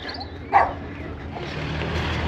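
A dog gives a single short bark indoors, moderately near, followed by a low background hum.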